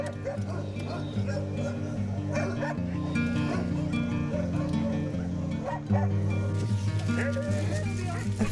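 Many dogs at a large dog shelter community in a forest near Beykoz, barking, yipping and whimpering continuously in a dense overlapping chorus, close and loud, with a voice speaking over it.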